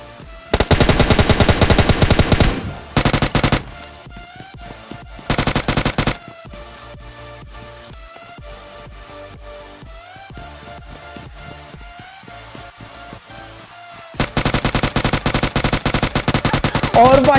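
Bursts of automatic gunfire in the mobile battle royale game PUBG Mobile Lite, with loud rapid volleys at the start and near the end and a quieter stretch of game sounds between them.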